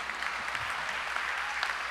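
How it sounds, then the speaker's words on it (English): Audience clapping at a school division convocation, a steady patter of applause from a crowd filling the room without pause. "I like the clapping part."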